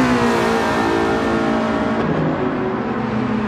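Lancia and Porsche touring car engines from Gran Turismo 7 roar steadily at St Croix, a loud continuous high-revving whine with layered harmonics that shift slightly as one car closes on the other.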